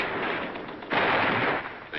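Dense, noisy rattle of machine gun fire from the WWII battle of Tarawa, a continuous rough burst that swells louder halfway through, sounding distant and washed out on an old recording.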